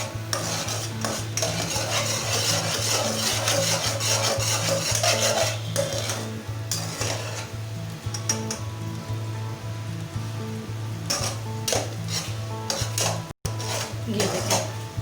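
Eggs stirred and cooked in a pan for junglee pulao, a steady scraping and clinking of a utensil against the pan with a soft sizzle beneath, continuous and close throughout.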